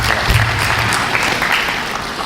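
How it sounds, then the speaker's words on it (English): Audience applause fills an orientation session for information systems students, a steady dense clapping from a crowd that holds at an even loud level with no voices over it. "So a big round of applause for you guys."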